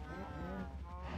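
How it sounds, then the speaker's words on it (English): Minecraft cows moo in a low, drawn-out call heard close and continuous for a brief moment, with no talk over it. "So you can probably hear the cows in the background."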